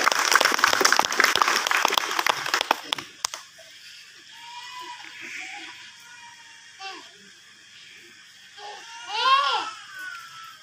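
Audience applause for candidate number 2 at a village head candidates' vision and mission presentation, dense clapping for about three seconds, then fading into murmuring crowd noise with a child crying nearby.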